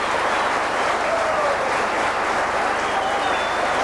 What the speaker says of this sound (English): getting a good round of applause too